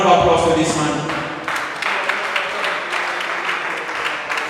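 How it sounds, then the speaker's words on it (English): An audience at an ambassadorial coronation event applauds warmly, the clapping steady and fairly loud, with voices and a speaker's tail briefly over the start. "Please, a round of applause for this man."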